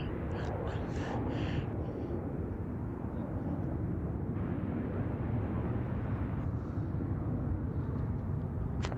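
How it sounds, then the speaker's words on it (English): A United Boeing 787-8 Dreamliner arriving from Paris at San Francisco Airport gives a steady, broad jet roar that stays constant throughout, a distant engine rumble with faint higher tones drifting over it. "Our Dreamliner is actually almost here too. It's a Boeing 787-8 Dreamliner coming in from Charles de Gaulle, Paris with United."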